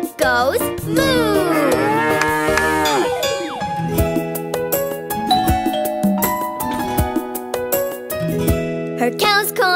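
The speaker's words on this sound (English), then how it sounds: "She goes moo." A cow moos in a children's nursery rhyme, long drawn-out moos alongside ringing cowbell tones and musical accompaniment, loud and close.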